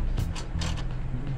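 A 13 mm wrench tightens the bolt on a bicycle wheel chock, a short run of close mechanical ratcheting clicks and creaks, several quick strokes in about a second.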